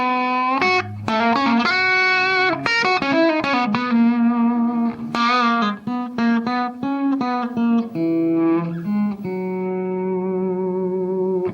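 Electric guitar played through an overdrive pedal with the drive tamed by the guitar's volume control, giving a fairly clean, defined tone across a melodic run of sustained and bent notes, loud and close.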